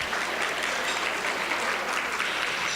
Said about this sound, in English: let's give a big round of applause to for our current board first